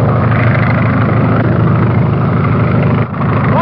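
A 1930s propeller airplane coming in to land, its engine droning loud and steady with a low rhythmic throb, dipping briefly near the end before picking back up.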